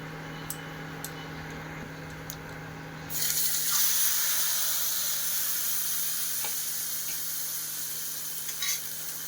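Ginger and cumin paste hits hot oil while khichuri is being cooked. After a few quiet seconds a loud, steady, close sizzle bursts in and holds to the end with no talking.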